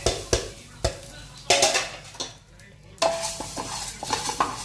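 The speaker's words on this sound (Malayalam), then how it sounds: "മല്ലി, മുളക്, കുരുമുളക്, കറാമ്പട്ട, നല്ല ജീരകം, പെരുംജീരകം അതൊക്കെ ഒന്ന് ചൂടാക്കി എടുക്കാം" Coriander, chili, black pepper, cinnamon, cumin and fennel are dry-roasted in a pan while being stirred, giving sharp spoon scrapes and knocks against the metal over a soft sizzle, close and fairly loud.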